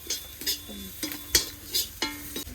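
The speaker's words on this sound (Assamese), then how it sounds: "তেলেদি মাছ ভাজিম আমি এতিয়া" Fish frying in its own fish oil in a home village kitchen, with intermittent scraping stir strokes and clinking of a utensil against the pan over a light sizzle, close and moderately loud.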